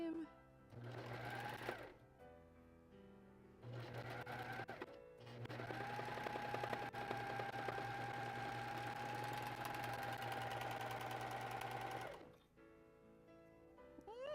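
A sewing machine stitches a seam on a pirate Umbreon costume commission, running in short bursts then one long steady whir, with pauses between, close and clear.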